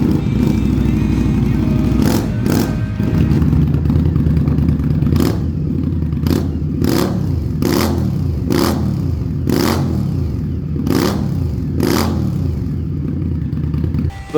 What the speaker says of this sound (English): These ones that I've got fitted to my bike are called Maverick crusher pipes, and they are ridiculously loud.